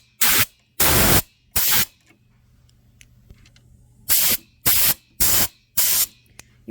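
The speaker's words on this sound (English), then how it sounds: "I've got a big air tank, my little air nozzle. We're just going to blow this out." Compressed air from a small nozzle fed by a big air tank, blowing loose thread out of a Janome MB7 embroidery machine: seven short, loud hissing bursts, three in quick succession, a quiet pause, then four more.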